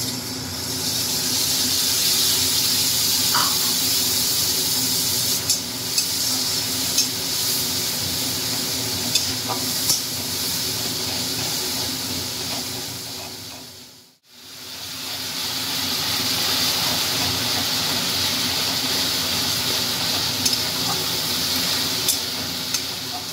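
Green chilli, ginger and garlic paste sizzles steadily in a pan with fried onions, a continuous broad hiss with a few light stirring clicks and one brief dropout partway through.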